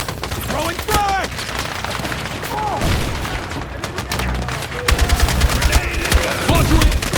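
Battlefield 6 combat: dense bursts of gunfire crackle throughout, with heavy booming blasts of a frag grenade and explosions growing louder toward the end, mixed with shouted voices.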